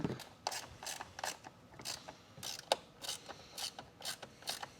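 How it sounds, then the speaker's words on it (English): Screws being driven into a Jeep Wrangler JK front speaker box, a quiet series of about a dozen short, sharp ratcheting clicks in an uneven rhythm, close up with no talking. "I'm going to start by trying to add the screws."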